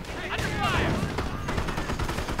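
Anti-tank guns open fire in a war strategy game as American forces engage, a dense run of booming shots and crackling gunfire layered over a constant battle din, with speech running through it.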